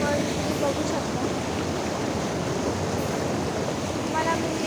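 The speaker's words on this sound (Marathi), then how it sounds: "तुम्ही बघू शकता इथे छोटासा धबधबा आहे, मोठा नाही आहे एवढा" A small waterfall on a village river produces a constant, even rush of falling water, moderately loud and unbroken throughout, with no distinct events standing out.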